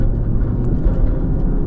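A Maruti Swift VXi AMT automatic car accelerating hard in second gear, giving a steady, loud low engine drone and rumble with no voices.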